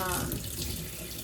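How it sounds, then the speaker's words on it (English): Cool room-temperature tap water pours steadily from a kitchen faucet while measuring water for a sourdough loaf, a continuous close rushing splash with no pauses. "I just use kind of like cool room temp tap water"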